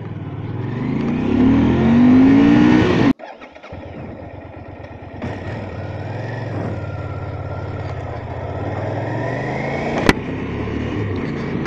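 A Yamaha TDM motorcycle engine idles loudly and close, then abruptly cuts to a rough, lower rumble as the bike rides off, its engine droning steadily with a sharp click near the end; no talking.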